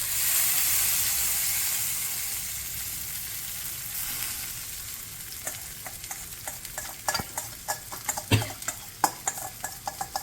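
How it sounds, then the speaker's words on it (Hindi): Poha stirred in a pan with fried spices and salt: a loud sizzle fades over the first seconds, then quick rhythmic scraping and clinking of a spoon against the pan dominates, with no talk. "इसे कर रहे हैं बस मिक्स, फिर डालेंगे इसमें पीनट्स।"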